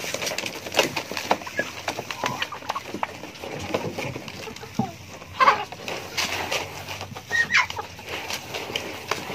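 Chickens cluck and chatter while being fed, with irregular short calls rising and falling at moderate loudness over a busy farmyard background and no talking.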